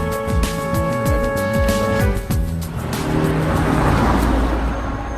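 A car revs through gear changes and rising engine pitch while driving, loud and close, with the engine note giving way to a broad roar as it speeds on.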